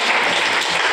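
Church congregation clapping during a Tamil gospel service, a loud, continuous burst of many hands in a dense, even roar lasting the whole moment.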